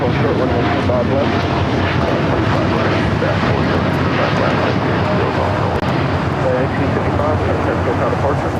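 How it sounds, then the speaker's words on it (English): A United Airlines Boeing 787-9 Dreamliner takes off at LAX bound for Newark, its jet engines a loud, steady, broadband roar that holds strong throughout. "That is United Airlines 1855 taking off to Newark on the 787-9 Dreamliner"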